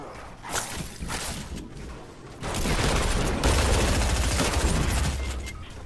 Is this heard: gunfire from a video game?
yes